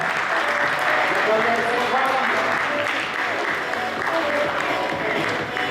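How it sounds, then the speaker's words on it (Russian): Steady, full applause from an audience at a youth volunteer forum award ceremony at a university, sustained loudly throughout while a presenter speaks over it. "Аплодисменты должны быть еще громче"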